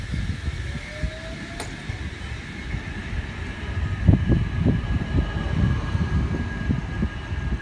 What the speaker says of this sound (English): Wyong service now departing platform 3